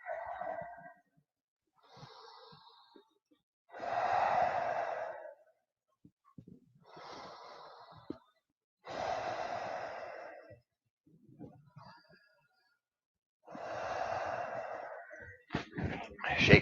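Slow, deep breaths during a yoga wrist stretch, long airy inhales and exhales separated by pauses of near silence, close and fairly soft, with no talking.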